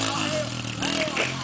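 A dirt bike engine revs hard and steadily as the rider tries to pull a wheelie outdoors, a loud, close, continuous droning roar with rising and falling pitch, while voices talk over it.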